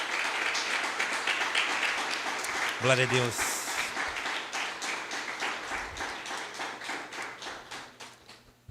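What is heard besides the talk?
church congregation applauding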